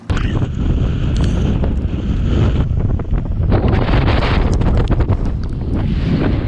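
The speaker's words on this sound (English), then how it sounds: "I'm getting pelted by the rain. The force from the wind" Strong gusting tropical storm wind roars and buffets the microphone continuously on a beach, with rain spattering throughout; loud and unbroken, no voices.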